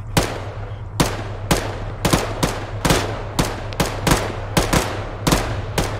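Gunfire and Mark 19 grenade launcher fire in ArmA 3, a dozen or so sharp, loud reports in an irregular rapid rhythm over a constant low hum, with no talking.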